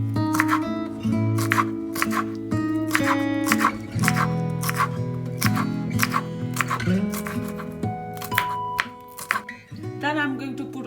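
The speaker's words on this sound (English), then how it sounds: "Next I'm going to cut the French beans," Knife chopping French beans on a board, a regular series of crisp cutting taps close by, under steady background music.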